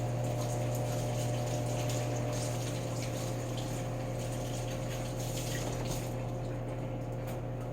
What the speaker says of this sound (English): Now we just need to rinse it off and get rid of the stuff we don't need.